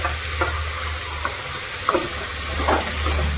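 Potatoes, carrots and mixed vegetables sauté in a pan with a soft continuous sizzle and a few light stirring knocks, close and fairly quiet, no voices.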